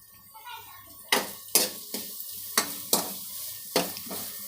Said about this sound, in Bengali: পেঁয়াজগুলো দিয়ে হালকা করে একটু ভেজে নেব।